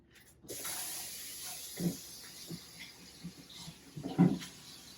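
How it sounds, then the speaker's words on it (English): Hands washed under a running kitchen tap during tamale pie preparation: a steady, fairly soft hiss of flowing water with a few brief splashy bursts, no talk. "let me wash my hands."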